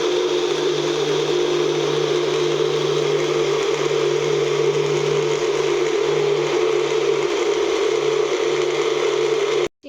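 An electric blender grinds onion, ginger, garlic and green chilli into a paste, a loud, steady whirring drone that holds unchanged for about ten seconds before cutting off abruptly.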